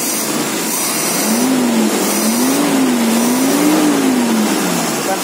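A carbureted car engine idles with a steady rumble and is revved in a few smooth swells, played up close and loud with no voice over it.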